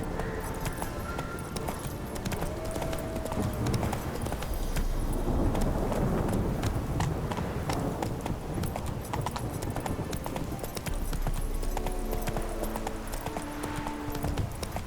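Horse hooves gallop in The Witcher 3 video game, a rapid, steady clip-clop that stays loud and close for the whole stretch, with no talk over it.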